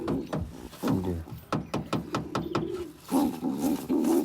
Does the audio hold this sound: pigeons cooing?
yes